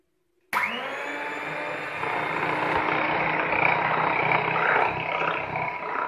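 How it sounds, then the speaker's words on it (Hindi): An electric hand beater whirs loudly and continuously as it mixes oil for a cake rusk batter, starting abruptly after brief silence and holding a dense, steady motor roar close by. "अब हैंड बीटर की मदद से हम इसे अच्छी तरह से मिक्स कर लेते हैं।"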